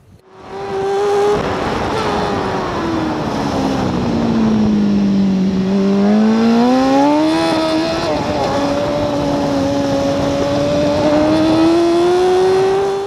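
A racing motorcycle at the Portimao circuit accelerates hard through the gears, its high engine wail climbing, dipping at a shift, then rising again at over 200 km/h, loud and close for the whole stretch.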